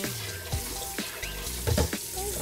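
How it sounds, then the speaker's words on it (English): Soaking water drains off beef bones into a sink, a running, splashing flow with a few gurgles and drips over about two seconds, close and moderately loud. "I'm gonna drain the water"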